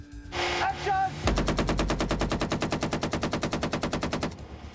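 Prop guns fire a rapid automatic burst on an action film set, a fast even string of loud, close bangs lasting about three seconds, preceded by a shout and followed by a short echoing tail.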